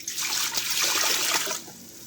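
Heated vinegar is poured into a pickling jar or pot already holding salt and spices, a brief liquid splash and gurgle lasting about a second and a half and ending in a faint trickle.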